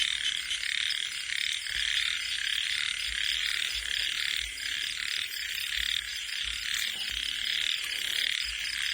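Frogs croaking after rain in Thailand, a steady, loud chorus of rapid rasping calls layered over a faint low background, continuous with no voices.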